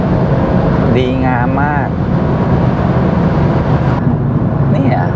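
BMW 430i Coupe accelerating, a steady loud engine and road drone from inside the cabin with someone talking over it.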